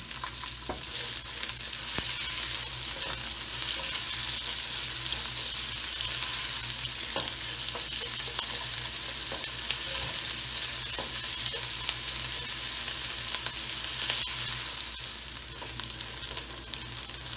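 Onions fry in hot oil for biryani, giving a dense, continuous sizzle and crackle that holds at a steady level with no voices.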